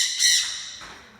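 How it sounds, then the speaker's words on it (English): A pet bird in a room lets out a single loud, shrill squawk that fades quickly, with no talking over it. "Excuse the bird there, guys. We have a bird"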